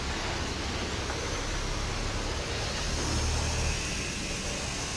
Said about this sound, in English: Got the car wash going.